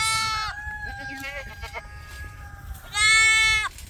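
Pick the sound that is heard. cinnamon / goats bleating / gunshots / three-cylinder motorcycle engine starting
goats bleating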